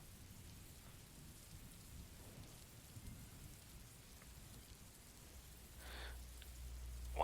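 Steady rain ambience plays softly as a continuous hiss of rainfall on surfaces during a live stream, with a low rumble swelling near the end and no talking.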